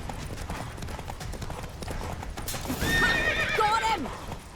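Roach, a horse in The Witcher 3: Wild Hunt, gallops with steady hoofbeats and then lets out a loud, clear neigh in the last two seconds, close over game ambience.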